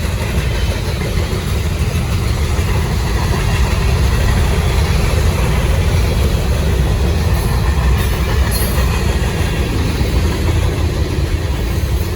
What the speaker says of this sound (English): Definitely still a really heavy train though